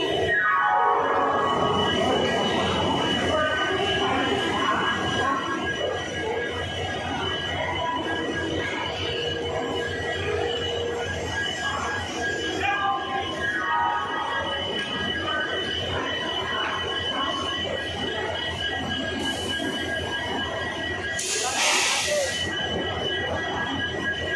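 A passenger train stands at a station platform during boarding, with continuous rumbling railcar noise, long squealing wheel tones and a sharp hiss near the end, loud and close throughout, with faint voices in the background.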